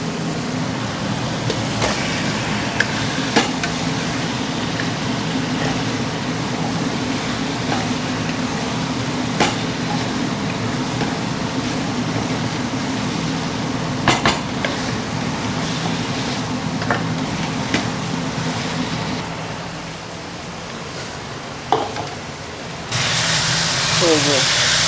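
Chicken pieces sizzle and crackle steadily in a hot pan while chicken kosha cooks, with a dense hiss that drops briefly before surging louder again near the end, and someone speaks over it.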